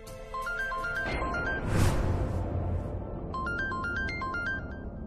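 A phone rings with an incoming call, its melodic electronic ringtone repeating in short patterns, broken off briefly by a loud dramatic whoosh and swelling background music before the ringtone returns.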